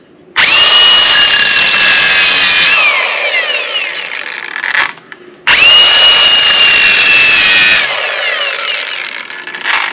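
A cutoff wheel grinds a groove into cracked metal on a Wright ZK52 mower with a Briggs & Stratton 37hp Vanguard EFI engine. Two loud, high-pitched cutting bursts of several seconds each have the motor winding down between them.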